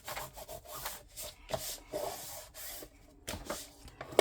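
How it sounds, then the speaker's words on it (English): Rhythmic rubbing strokes as a tool burnishes a paper fold during album crafting, a series of short, close scraping passes with brief pauses between them. "And then I can burnish."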